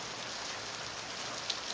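Steady rain falling outdoors in Thailand at dusk, a dense even hiss of drops with no pauses, close and alone without talk.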